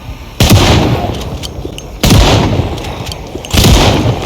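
Three loud, separated gunshots from a firearm in the video game Project Zomboid, each a sharp booming blast with a short decaying tail, spaced a second or two apart.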